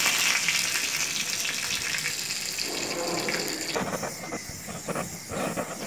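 Water poured into melted wax sets off a flaring fire, heard as a loud, steady roaring hiss and sizzle that shifts in tone partway through as the flames spread.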